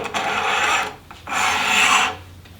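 A stop block fitted with a thumb screw and T-nut is slid along the track of a table saw fence, giving two close, rasping scrapes of about a second each, separated by a short pause, with no talking.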